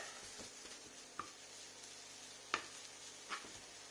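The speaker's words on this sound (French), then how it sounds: "Mes lardons sont rissolés" Lardons frying in a pan: a low, steady sizzle runs throughout, with a few soft stirring clicks standing out, quiet and close.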